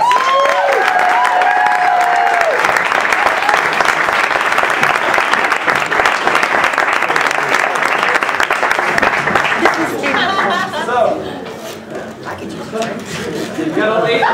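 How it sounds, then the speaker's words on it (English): Loud, sustained applause from a live audience for contestants at an event, steady clapping and cheering that lasts most of the clip before thinning out, with voices and chatter emerging near the end. "let's give a round of applause for our contestants"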